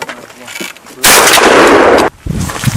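A shotgun fires a single loud blast with SKM Elite container-wad cartridges, 70 mm cases, no. 3 shot and a 32 g load, at a target 35 metres away during pre-season test firing. The report rings on for about a second, then quieter outdoor sound follows.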